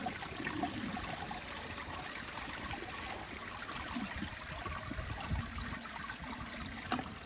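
Water rushes steadily through a restored 1978 Eljer Emblem toilet as it flushes, a continuous close gushing and swirling with slight gurgles and no clear break.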